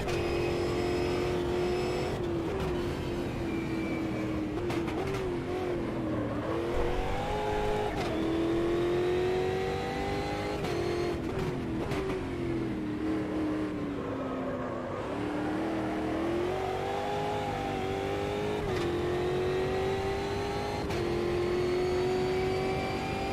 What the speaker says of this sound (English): this car's got really good sound